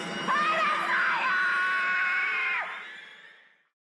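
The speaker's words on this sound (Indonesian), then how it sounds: "dikejutkan dengan sosok wanita yang berteriak ke arahnya" A woman's scream in a horror story, a sustained high shriek lasting about two and a half seconds before trailing off, heard alone without talk.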